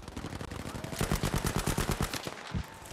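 Rapid submachine gun fire from an MP40 or STEN in the Battlefield 5 multiplayer shooter, one fast continuous burst of sharp cracks lasting a couple of seconds, loud and close, then a single final shot.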